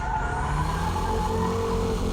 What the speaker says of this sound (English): Braking drift is controlled by the braking power, your braking touch